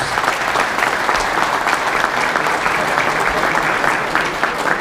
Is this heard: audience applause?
yes